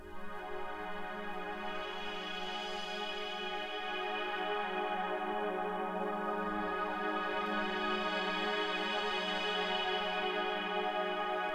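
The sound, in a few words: lush ambient techno synth pad patch made in Ableton Drift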